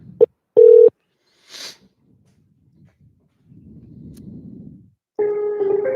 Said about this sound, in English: We're going to call again from a different phone number.